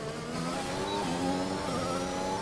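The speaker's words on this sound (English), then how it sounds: "I'm going to leave you with the engine sounds" A Formula 1 car engine in the F1 2021 racing game screams continuously through a qualifying lap at Baku, holding a high, steady whine with shifting pitch, loud and alone with no talk.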